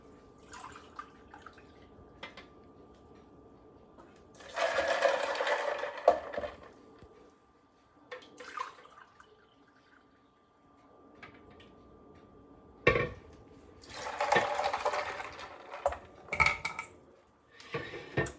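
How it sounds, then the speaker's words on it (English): Lemonade poured over about three cups of ice in a home kitchen, heard as two separate bursts of splashing and clinking with quiet pauses around them. "for about 3 cups of ice, I'm gonna want to put about 3 cups of lemonade"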